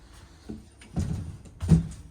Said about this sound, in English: And they are the slow closing doors too